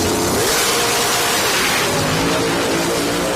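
A nitrous-equipped drag racing car creeps into the staging beams at the starting line. Its engine roars loudly and continuously, a dense, rough rumble that never lets up.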